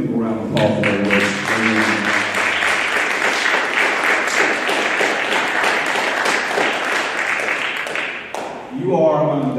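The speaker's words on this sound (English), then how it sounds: "Let's give them a round of applause." An audience at a symphonic band concert breaks into loud, sustained applause that fills the hall for several seconds, then quickly fades as a voice begins speaking.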